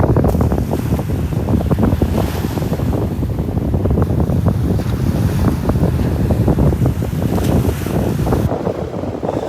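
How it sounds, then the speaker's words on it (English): Strong wind gusts roar across the microphone on an open beach point at Delnor-Wiggins, with steady buffeting and surf noise underneath, loud and continuous throughout without speech. "Man, that wind is something."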